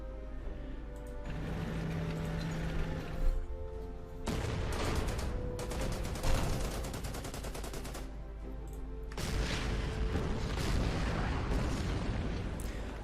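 Dense artillery fire and gunfire from the World War II strategy game Order of Battle, with repeated booming impacts and crackling bursts in overlapping volleys that keep going for the whole stretch, loud and continuous with no voices.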